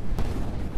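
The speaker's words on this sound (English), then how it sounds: "This looks like a few cannon hits landing on the front there as well." Heavy cannon impacts boom in a naval battle game, a low rumbling burst with a sharp crack near the start, loud and close, with no talk over it.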